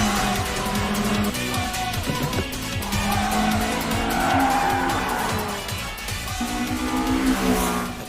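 Toyota AE86 race car in an anime street race, its engine revving hard with rising and falling pitch while tires squeal and skid, loud and close throughout, mixed with dramatic background music.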